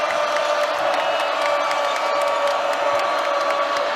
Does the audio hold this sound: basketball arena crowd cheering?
yes